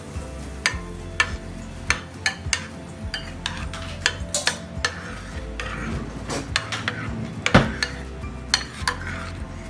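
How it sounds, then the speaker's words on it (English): Spoon or utensil scraping and clinking steadily in a bowl of homemade applesauce, a busy run of irregular clatters and taps up close, with no talking. "we're mixing my applesauce that I've been making"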